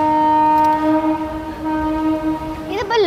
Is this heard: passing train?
yes